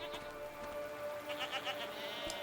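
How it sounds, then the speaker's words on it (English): Goat-like creatures in a video game let out a few short, bleating calls at moderate volume over a soft ambient background, with no talking. "What are these strange goat-like creatures?"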